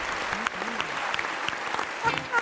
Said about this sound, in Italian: Un applauso Adesso